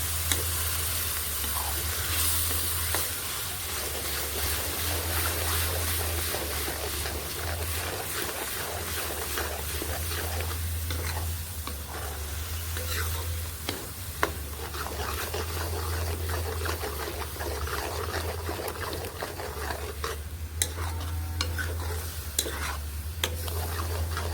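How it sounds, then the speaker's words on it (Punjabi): Onion, chilli and tomato masala for Punjabi-style stuffed karela fries loudly in a pan with continuous close sizzling, broken by repeated scraping and clinking of a spoon as it is stirred. "ਬਹੁਤ ਚੰਗੀ ਤਰ੍ਹਾਂ ਪਕਾਉਣਾ ਸੀ ਇਸ ਮਸਾਲੇ ਨੂੰ"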